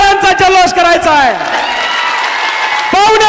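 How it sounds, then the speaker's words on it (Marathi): A large crowd at an outdoor political rally in Beed claps and cheers in a dense wash of applause, with loud shouting and voices carrying over it at the start and finish. "सगळ्यांनी एकदा जोरदार टाळ्यांचा जल्लोष करायचा आहे"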